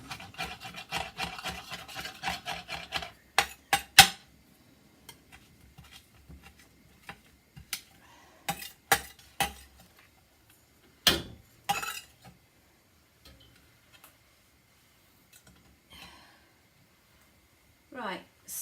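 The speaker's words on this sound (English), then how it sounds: "give this a bit of a stir" A utensil stirs a pan of garlic with scattered scrapes, knocks and clinks, loud and close, broken by quiet gaps. A voice speaks briefly at the start.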